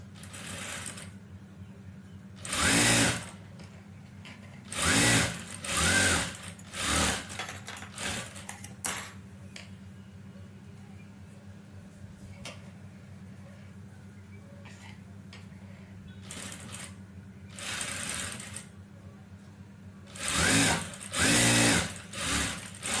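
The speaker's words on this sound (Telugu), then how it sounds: "పెట్టేసి పైన కుట్టేయండి" A sewing machine stitches a shaped belt joint in several loud, rapid bursts of needle chatter over a steady motor hum, with quiet pauses between runs, close up.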